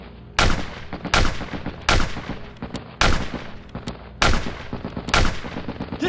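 Gunfire in a battle scene: heavy, loud volleys of shots in repeated bursts roughly every second, with booming reports and rolling echoes between them, no voices audible.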